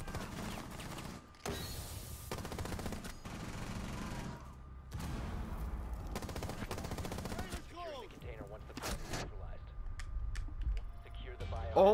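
Gunfire bursts in Rainbow Six Siege, several loud volleys broken by short gaps, mixed with game noises and people talking over the action.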